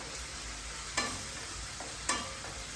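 Onions and curry leaves fry softly in a pan under a quiet, steady sizzle, broken by two brief utensil scrapes, with no talking.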